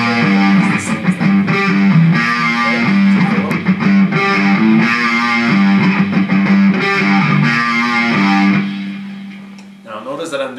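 Electric guitar played through distortion, a thick buzzing tone with chugging strummed chords and riffs that ring loud and close, trailing off near the end.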